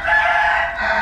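A fighting rooster on a Thai farm crows loudly and close by in one sustained, strained call that fills the whole moment, with no voices over it.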